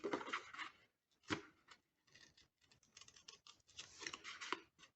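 Scissors snipping paper flower petals for a handmade card, a quiet series of close, crisp cuts with short pauses between them.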